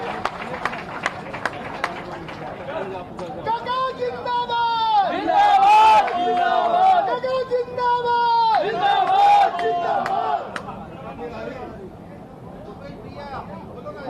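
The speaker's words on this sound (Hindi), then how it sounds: "मैं उन्हें पूरे सम्मान और तालियों की करतल ध्वनि से आमंत्रित कर रही हूँ हमारे सम्माननीय मुख्यमंत्री श्री भूपेश बघे" Audience applause at a Chhattisgarh government event welcomes Chief Minister Bhupesh Baghel, a dense, sustained clatter of many hands mixed with crowd noise and tonal sounds, swelling in the middle and easing toward the end.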